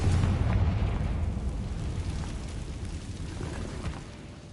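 A Confringo explosive spell goes off in a video game as a loud, broad rumbling blast that roars and slowly fades over several seconds, with no speech over it.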